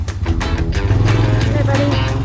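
A four-wheeler quad bike engine idles and revs close by outdoors, a steady low rumble with slight pitch shifts, as someone talks over it.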